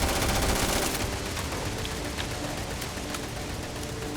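Steady wash of video game gunfire in a game mixing No Man's Sky and Skyrim, dense and continuous with faint sharper shots scattered through, no voices.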